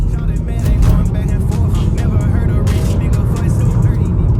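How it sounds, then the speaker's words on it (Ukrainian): A BMW N55 twin-turbo engine runs loud and close, a deep rumbling idle with a few swells in revving. "двохтурбіновий мотор, Н55 мотор. Дуже хвальоні, дуже хороші мотори."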